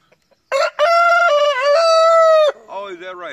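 Close, loud rooster crowing in a long drawn-out call, followed by a shorter crow, with chickens gathered around underfoot in a backyard flock.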